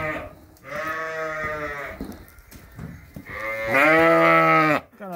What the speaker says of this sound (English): Got a few ewes to feed